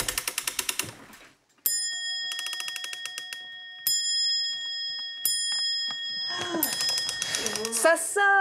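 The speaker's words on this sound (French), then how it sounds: "Ça sonne! L'horloge renaît enfin de ses cendres." A restored 250-year-old antique clock, brought back to life after seven months of work, strikes a series of bright bell chimes with long ringing tones, preceded by rapid mechanical ticking and followed by voices talking over the lingering ring.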